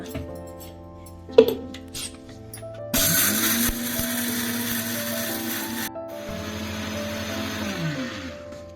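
Mixer grinder whirring loudly as it grinds peanuts, roasted gram dal and cardamom, starting abruptly, running steadily for a few seconds, pausing briefly and then spinning again with a harsh gritty whine, preceded by clinks and handling noises.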